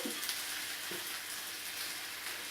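Lamb chops browning in butter in a pan, a steady dense sizzle with soft crackles throughout, close and alone without talk.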